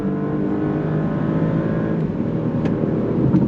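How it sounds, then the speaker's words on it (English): 2024 Porsche Panamera sedan pulling away on throttle as its 8-speed gearbox drops down a gear, a steady loud engine drone building with a rising whir, heard from inside the car. "let's go on throttle. On throttle, here we go. 8-speed drops down and we're off and running."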